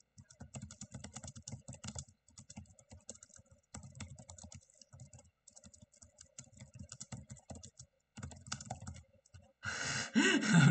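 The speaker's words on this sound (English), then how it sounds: "I'm gonna type it real quick and see what you guys think." Quick typing on a computer keyboard, close and quiet, with dense bursts of key clicks separated by brief pauses and a louder, busier stretch of taps at the end.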